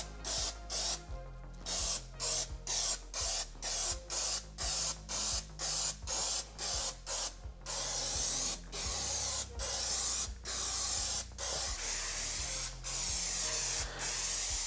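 A spray gun applies a thin textured coating to the bumper of a Magirus Deutz 170D11 truck in repeated close, loud hissing bursts of about half a second each, separated by short gaps, with a low steady compressor hum underneath.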